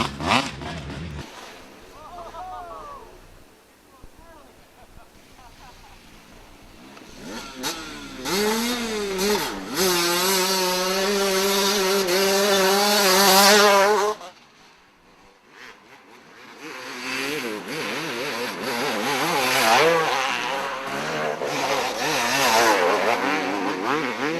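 A Suzuki dirt bike engine revs and roars at a GNCC cross country race, rising loud and sustained as it passes close, dropping off, then climbing again, with commentary over it.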